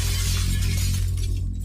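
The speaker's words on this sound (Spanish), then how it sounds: "Fuera del auto oí vidrio romperse." Glass shatters in a loud, close crash of bright fragments over a low droning hum, the breaking noise thinning out as the pieces settle.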